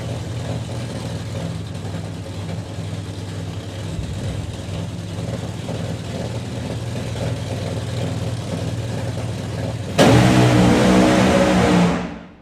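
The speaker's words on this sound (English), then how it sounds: "You'll hear the engine note drop," A drag racing car at an FIA drag racing event sits idling loudly at the start line for about ten seconds, then revs hard in a sudden roaring burst before cutting off, with no talk.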